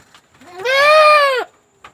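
A single goat on a farm lets out one clear, drawn-out bleat at feeding time, close and loud, lasting under a second, with quiet rustling before and after.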